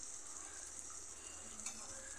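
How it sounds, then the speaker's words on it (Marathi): Sprouted mung beans sizzle and crackle in a hot tempering of oil in a pan, a steady close frying hiss with soft stirring. "हे सगळे मूग आपण याच्यामध्ये टाकून घेऊयात फोडणीमध्ये।"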